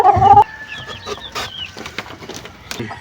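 A tall laying hen clucks close by in a short burst of low, throaty calls, followed by quieter scattered clucks and faint chirps.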